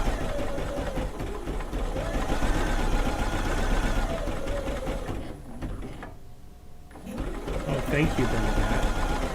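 A sewing machine hums steadily while stitching a quilt top, a continuous close mechanical whir that stops briefly when the presser foot is lifted and then resumes, with a voice talking over it throughout.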